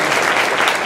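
Sustained crowd applause at a Lunar New Year celebration, an even wash of many hands clapping together with no voices standing out.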